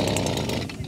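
A Stihl leaf blower's small two-stroke engine running for a moment: a harsh, buzzing engine drone, close and steady, lasting under a second.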